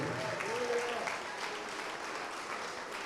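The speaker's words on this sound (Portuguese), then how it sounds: "Vamos aplaudir mais ao nome de Jesus." A church congregation applauding in praise during a worship service, steady massed clapping at moderate level with a voice speaking briefly over it near the start.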